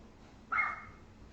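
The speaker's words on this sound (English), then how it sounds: "the dogs are barking like crazy" Household dogs bark in the background during an acrylic painting session, with one short, moderately loud bark rising abruptly from a quiet room hum.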